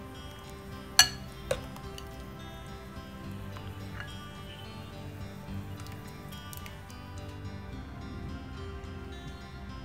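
Utensils clinking against a dish as potato and beef varutharacha curry is transferred, with two sharp clinks early on and then soft scraping over a steady low background hum.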